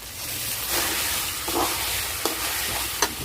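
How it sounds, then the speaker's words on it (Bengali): Marinated meat frying in a pan for Bengali kosha mangsho, a broad steady hiss of sizzling with a few sharp spatula taps and scrapes, close and even in level, no one speaking. "ভালো করে মাংসগুলোকে কষে নিয়েছি"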